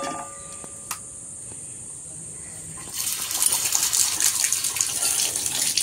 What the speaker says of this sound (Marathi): चला आता धुवून घेऊया आपण.